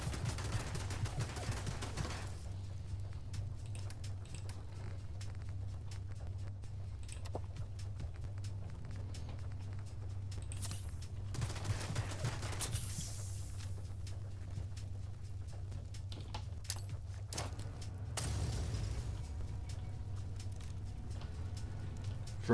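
Sustained gunfire aimed at a Mark 1 turret in Fallout London, with rapid clattering shots running continuously over a steady low hum, and louder dense bursts standing out near the middle and end.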